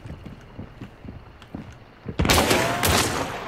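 Sudden loud burst of video game gunfire, a dense broadband crackle of several rapid shots after a stretch of quieter footsteps and ambient game sounds.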